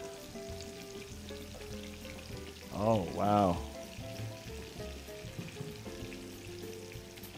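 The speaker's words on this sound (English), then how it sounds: "Do you hear it sizzling?" Shrimp frying in a pan give a steady sizzle throughout, with a brief louder burst of crackling in the middle and a person's short exclamation over it.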